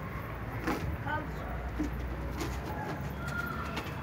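Pigeons cooing nearby over a steady outdoor rumble, with soft repeated low calls and faint rustling.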